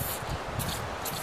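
Clean Strip aerosol paint stripper hisses in a steady continuous spray from a can, applied to aluminum parts of a 1973 Honda CB750 motorcycle, close and uninterrupted.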